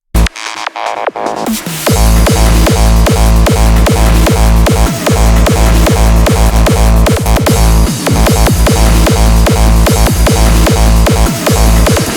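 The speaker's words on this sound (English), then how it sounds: "I believe this is a detuned sawtooth, which is stretched and messed with the distortion" A loud, gritty, detuned and stretched sawtooth synth with distortion pounds out a fast repeating hardstyle pattern of pulsing notes, thick and buzzy, after a brief quieter opening.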